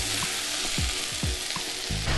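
Onions, red pepper and grated carrot fry in a pan, with a steady close sizzle broken by a few scraping stirs.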